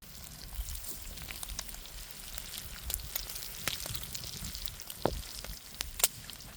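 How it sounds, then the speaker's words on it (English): Eggs fry in a cast iron pan over a campfire, crackling and spitting steadily up close, with sharper pops standing out near the end. "And then let's get the cast iron pan back on the fire. We'll cook these eggs and then it'll be breakfast time."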